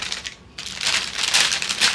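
A child tears and crumples wrapping paper off a Christmas present on Christmas morning, with loud, crinkly rips starting after a brief pause and continuing in dense bursts.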